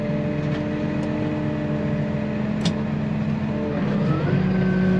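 A van drives past on a farm, a steady engine hum with a gentle rise in pitch near the end, moderately close and with no talking.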